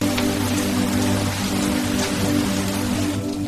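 Steady rain pours down over a hillside cottage in the mountains, a dense, even hiss of drops on surfaces with no voices, continuous throughout.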